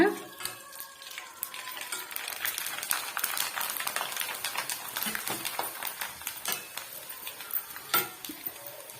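Urad dal vadagam frying in hot oil, a busy crackling sizzle with dense popping bubbles that starts with a sharp burst and settles into steady, close spluttering.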